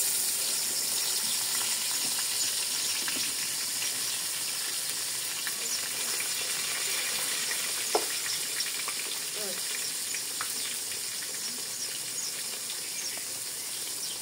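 Fish fries in plenty of hot oil in a hot wok, a steady close-up sizzle and crackle that hisses continuously, with occasional pops and a brief clink of a utensil.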